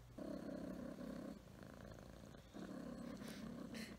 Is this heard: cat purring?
yes